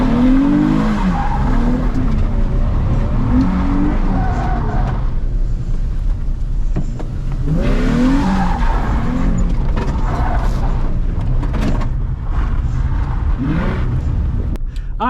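Drift cars skid around an abandoned ghost town, their tires squealing in long, loud wailing sweeps over revving engines, with bursts of screeching repeating several times and no talking.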